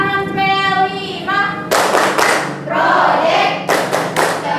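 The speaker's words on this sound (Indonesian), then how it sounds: "Tepuk tangan P5." A classroom of students performs a rhythmic clapping pattern as an ice breaker, with bursts of group claps and thuds in sequence, following a teacher's voice and mixed with children's voices.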